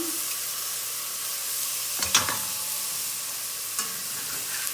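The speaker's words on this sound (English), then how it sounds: "Now I'm going to drop in the rice and beans that are soaked for about an hour. I'm going to stir those in." Soaked rice and beans stirred into a pot of sizzling toasted seeds for kitchari, a steady frying hiss with a couple of sharp scraping stir sounds in the middle and near the end.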